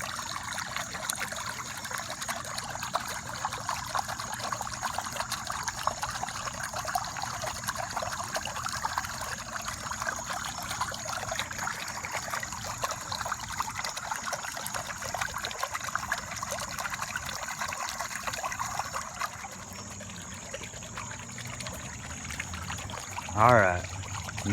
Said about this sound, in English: See the water coming up from the pump.